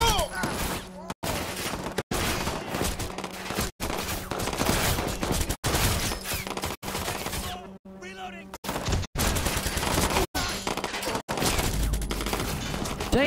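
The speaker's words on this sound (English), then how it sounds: "Damn, I'm getting shot." Sustained gunfire in the video game Watch Dogs 2, dense rapid bursts and volleys filling the whole stretch with only brief breaks, loud and continuous.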